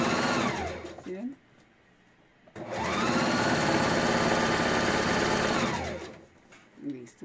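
A sewing machine stitches elastic into fabric, running in a loud, close, steady whir for about a second, pausing, then sewing again in a longer continuous burst of several seconds before stopping.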